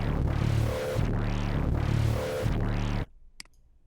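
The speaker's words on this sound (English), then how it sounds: "so it's like an outright twitch at the end of the sound." Morphing dubstep bass from the Oki Computer 2 synth, its step sequencer set fully left so each note twitches abruptly; loud sweeping wobbles throb in rhythmic swells for three seconds, then cut off sharply, leaving a brief faint click.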